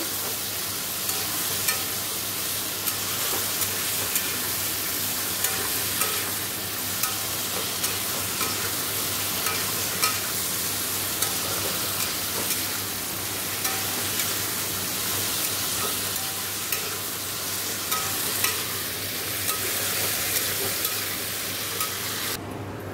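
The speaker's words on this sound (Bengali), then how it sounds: "জিরের গুঁড়ো ধনের গুঁড়ো কাশ্মীরি লঙ্কার গুঁড়ো নুন হলুদ মিষ্টি দিয়ে ভালো করে কষিয়ে নেব" Ground cumin, coriander, Kashmiri chilli powder, salt, turmeric and sugar sautéed in a frying pan, giving a continuous bright sizzle with faint periodic clicks of stirring, heard close and alone.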